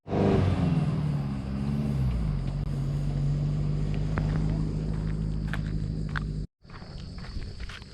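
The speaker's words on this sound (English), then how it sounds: "the boys have sent it off to go do a little bit of afternoon four-wheel driving" A four-wheel drive vehicle pulls away on a bush track at opening day of marron season. It gives a low engine rumble with some rising revs that fade off, followed by a brief cut and faint outdoor noise.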